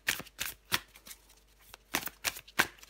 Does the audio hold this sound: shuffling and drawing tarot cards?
yes